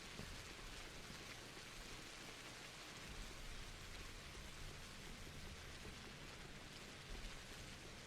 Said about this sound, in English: I've had to walk down these streets while it's raining